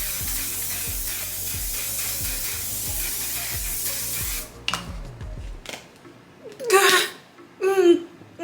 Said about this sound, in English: I'm gonna spray my face with the One Size On Till Dawn setting spray.